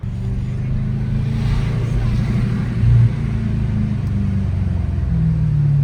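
A 650 HP Mercedes GT63s cruises through Beverly Hills city streets with a deep, steady engine rumble heard from inside the cabin, swelling briefly as the throttle is pressed, loud and continuous throughout.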